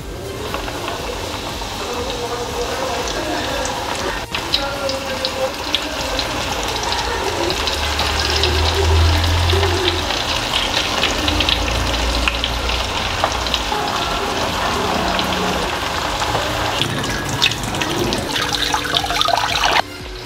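Battered chicken pieces deep frying in hot oil for home-made KFC-style brosted chicken, a steady loud crackling sizzle throughout with occasional bubbling bursts, no voices.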